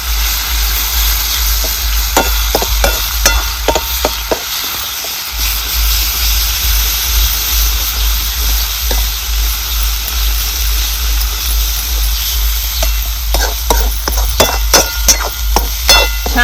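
Masala mixed with ground green chilli chutney is sautéed in oil in a pan for ghute, a steady loud sizzle with intermittent scraping clicks of stirring.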